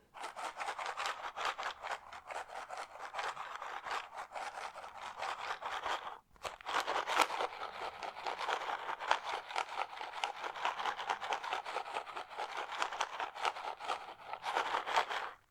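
Rapid, smooth rattling of fine cereal grains shaken back and forth in a mini cereal box, faint and close, with a brief pause partway through.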